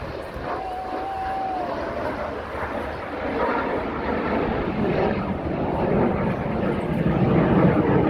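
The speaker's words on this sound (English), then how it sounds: "Here he is today with Mark's RSAF aircraft." A BAC Strikemaster jet flying at an air show, a broad steady engine roar that slowly grows louder over several seconds with a brief whistling tone early on.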